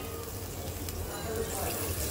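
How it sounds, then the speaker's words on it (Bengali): Curry water is poured into a pot of potato and soybean curry cooking on the stove. It makes a soft, steady splashing rush that is close and moderately loud. "দিয়ে দিলাম ঝোলের জল"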